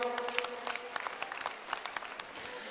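An audience at a political rally claps in a brief burst of applause, many hands overlapping at moderate distance with no voices over it.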